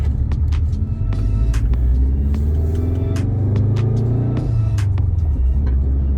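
A Subaru Impreza WRX engine rumbles loudly from inside the cabin while driving, with a steady low drone that rises slightly in pitch, plus scattered clicks and knocks.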